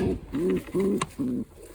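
Pigeons coo in a breeding loft, English breed birds among nesting pairs with squabs: four close, rolling coos in a steady rhythm, each about a quarter second long, with a brief soft click between them.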